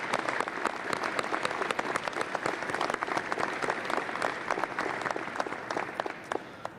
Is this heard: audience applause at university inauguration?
yes